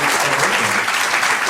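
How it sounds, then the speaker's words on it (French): A brief burst of dense audience clapping, loud and continuous for about a second and a half. "On va t'applaudir très fort, Jean-Yves."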